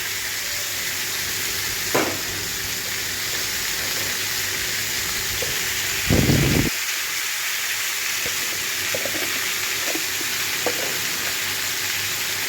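Vegetables fry in a kadai with a steady, close hiss. A loud scrape or splash cuts in partway through, and a few soft clinks of stirring sound along the way.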